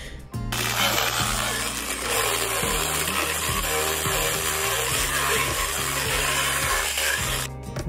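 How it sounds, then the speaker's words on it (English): A Dremel rasping a horse's teeth grinds and whirs steadily for several seconds, a loud, harsh buzz with faint rattling underneath. "The contraption that was making that noise was the Dremel"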